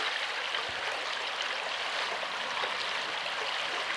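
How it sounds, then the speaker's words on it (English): A river flows under the arches of a bridge in a Hampshire village, giving a steady, even rush of water that continues unbroken throughout. "Perhaps just listen to the water for a bit."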